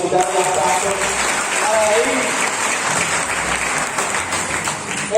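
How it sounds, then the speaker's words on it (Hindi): Loud, sustained applause from a large crowd at a Jashn-e-Jaguar gathering in J&K, steady for the whole stretch, with voices calling out over the clapping. "जोरदार ताली यार"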